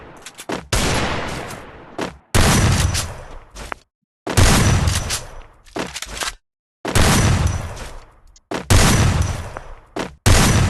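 Gunfire in a shooting video game, several loud bursts of rapid shots separated by short silent gaps, close and punchy with no talking.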